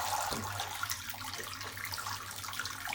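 Hot water runs steadily from a household tap after a Biasi boiler repair, a loud, continuous splashing rush with a low steady hum underneath and no talking.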